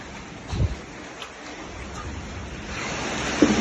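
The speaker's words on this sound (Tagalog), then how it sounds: "Tuloy-tuloy yung pasok ng tubig." Steady broadband rushing of floodwater flowing into a house during monsoon rains in Baguio City, continuous and fairly close, with a brief thump early on and a louder splash at the end.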